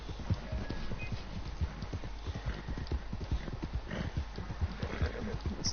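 Hooves of a horse clip-clop in Red Dead Redemption 2, a brisk, regular stream of close, crisp beats with a faint rumble beneath and light talk in the background.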